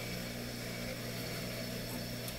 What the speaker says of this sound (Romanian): Se pule el trabajo para dar el acabado final.